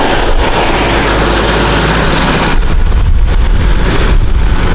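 A Quantum Edge 2.0 iLevel power chair drives along with a steady low motor hum under a broad wash of noise, growing rougher and louder about halfway through.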